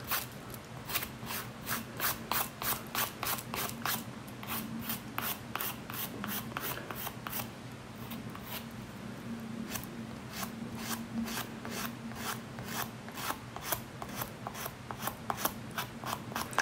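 A coarse, large-grit nail file rasps steadily across fingernails during a holographic black nail art manicure, a fast rhythmic run of close, crisp scraping strokes that continues without pause and with no voices over it.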